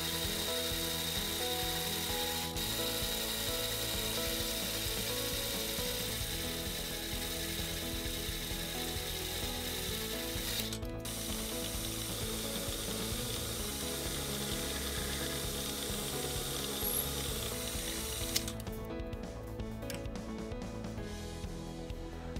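Machining sleeves on a lathe for an aluminum bicycle frame jig: a steady, loud whirring mechanical drone with a ratcheting texture runs throughout, with a brief break near the middle and a harsher cutting noise toward the end.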